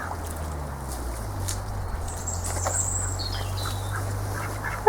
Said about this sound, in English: Hello, ducks. They're so cute.